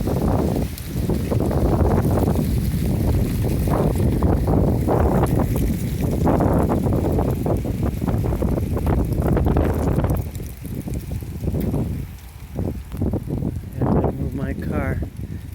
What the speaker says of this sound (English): The wind came from nowhere.